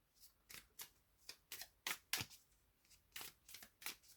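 A deck of Hermitcraft trading cards is shuffled by hand, giving a series of about a dozen quick, crisp riffling bursts in an uneven rhythm, close and quiet with no talking.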